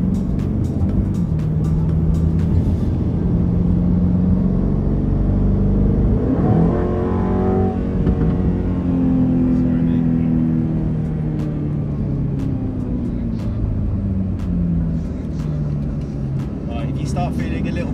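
A car on a race track roars as it accelerates, engine pitch climbing and shifting through gears in a loud, continuous drone from inside the cabin, with people talking over it.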